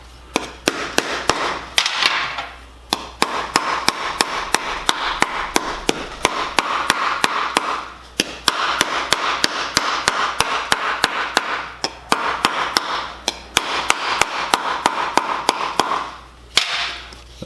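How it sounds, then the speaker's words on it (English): Rapid, steady hammer blows on sheet metal, sharp metallic strikes repeating in quick bursts with brief pauses between runs, close and loud. "as I start to hammer it flat"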